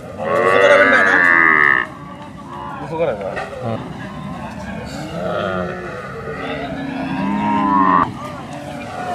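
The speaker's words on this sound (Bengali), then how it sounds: "হাটে গরু ঢুকতেছে" Several cattle moo loudly in long, low calls over a crowded, noisy Bangladeshi livestock market before Eid al-Adha, with people talking throughout.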